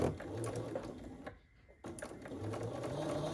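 A sewing machine stitches quilt block fabric with a close, steady mechanical whir. It stops briefly midway, then resumes running continuously.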